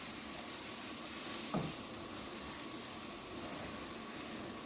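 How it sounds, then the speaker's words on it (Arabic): Food seasoned with turmeric sizzles and crackles steadily in a hot pan as it is stir-fried, with a brief scrape of the utensil partway through; no talk. "اقلب ونشوح بالطريقه دي."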